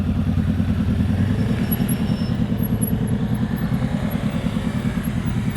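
A motorcycle ridden during slow-speed riding practice gives a close, steady low engine rumble with a quick rhythmic throttle pulse, unbroken throughout and with no talk.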